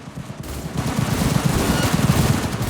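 Rapid automatic gunfire rattles in dense, continuous bursts during a Cyberpunk 2077 firefight, loud and close with shots overlapping into a sustained clatter.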